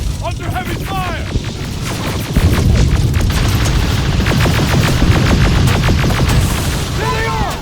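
Heavy gunfire and explosions in the video game Terminator Resistance, a loud, continuous barrage of rapid shots and booming blasts, with shouting voices briefly over the din.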